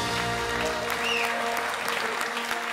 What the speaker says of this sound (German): Begrüßt mit einem fulminanten Applaus den Vertretungslehrer im Fach Physik